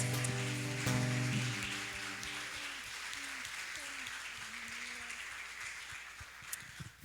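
Congregation applauding in a church service, a dense patter of clapping that starts loud and fades over several seconds, with a brief voice and faint musical tones beneath.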